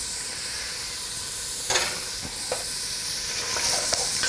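Celery and fried onions sizzling in a pan over medium heat, a constant soft hiss broken by a few brief scrapes and clatters of stirring.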